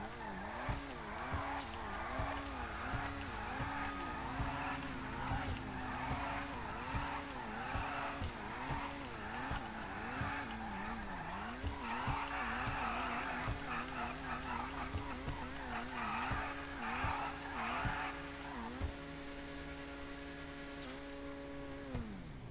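In a video game, a car's engine drones and rises and falls in pitch while its wheels spin and its tires squeal, going on steadily and fairly loudly until the revving settles near the end.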